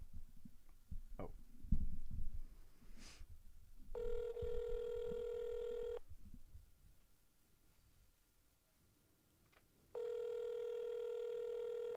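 Outgoing phone call ringback: two long steady ringing tones, each about two seconds, separated by a pause, heard after a stretch of background bumps and handling noise.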